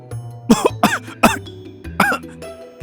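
A run of four or five harsh coughs, close and loud, coming in quick bursts.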